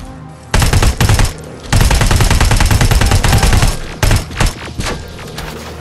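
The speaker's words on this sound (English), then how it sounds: "Oh, they got laser guns." Laser guns fire in Terminator Resistance in long, dense rapid-fire bursts, loud and close, with short pauses between volleys.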